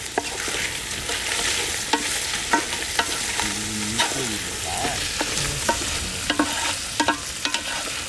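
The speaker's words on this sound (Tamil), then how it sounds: "காஞ்ச மிளகா போட்டு ஒரு 2 நிமிஷம் வதக்கிட்டு" Onion and dried red chillies sautéing in a pan in a village kitchen: a constant strong sizzle, regular sharp scraping strokes from stirring, and a brief low rumble midway, with no talking.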